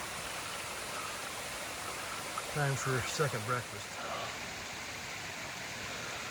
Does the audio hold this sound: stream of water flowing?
yes